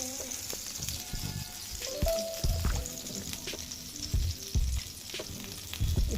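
Hyderabadi-style dosa batter sizzles and crackles steadily on a hot pan, with soft scraping and dull knocks from handling the pan scattered throughout.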